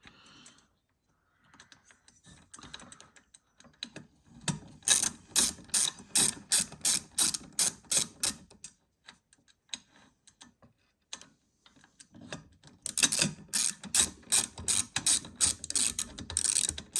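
A screwdriver drives screws into a battery cage in two runs of fast, even ratcheting clicks, loud and close, separated by quiet handling and a few scattered clicks.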